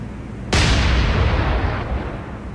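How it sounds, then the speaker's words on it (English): Naval guns fire in the naval combat game War on the Sea, a single loud sudden blast followed by a long rumbling roar that slowly fades, with no speech. "I'm gonna have the secondaries keep firing, but you're actually gonna fire on this guy"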